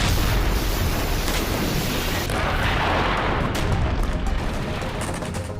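Explosions from an Azerbaijani strike on Armenian artillery positions in Nagorno-Karabakh roar as a loud, continuous barrage of booms and blasts. Sharp cracks stand out against the rumble.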